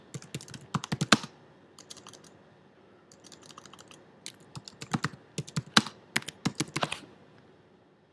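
Someone types initials on a computer keyboard, producing close, crisp key clicks in irregular bursts separated by brief pauses, with no voices.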